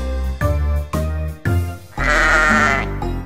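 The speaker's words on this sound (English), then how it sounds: "A sheep is in the barn." Bleating sheep in a children's farm song, with several wavering bleats in a row over a musical backing, the last one longer and louder.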